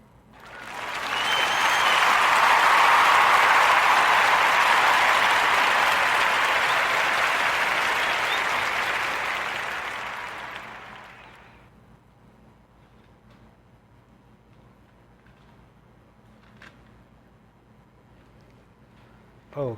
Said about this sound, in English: let's give a warm narrative podcast round of applause for the founder of Plant-Based Pizzeria